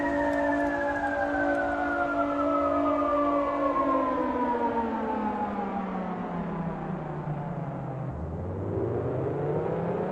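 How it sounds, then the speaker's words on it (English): Video game siren with a wailing tone sliding steadily downward over several seconds, then swooping back up near the end, loud and continuous with no talk. "Now there's a siren."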